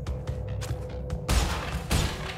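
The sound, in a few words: explosions in Crash Bandicoot N. Sane Trilogy video game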